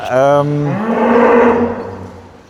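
Simmental dairy cows on a farm give one long, loud, close moo with a rising, then falling pitch, and no talk around it.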